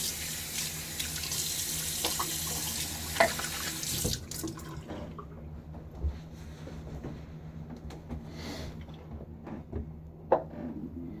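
A bathroom tap runs steadily into a sink while someone wets their face before a shave, the broad flow stopping about four seconds in, followed by faint drips, splashes and small handling knocks close by.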